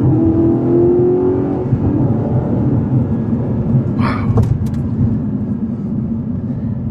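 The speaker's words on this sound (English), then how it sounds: "that's a naturally aspirated V8" Naturally aspirated V8 car with an aftermarket exhaust, a steady loud engine drone with a rising tone early on and a brief sharper burst midway.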